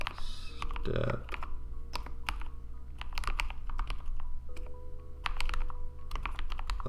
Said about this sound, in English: It's a lot of typing.